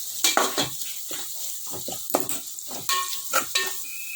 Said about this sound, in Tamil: நல்லா வெங்காயம் ஒரு கோல்டன் ப்ரௌன் கலர் வரணும்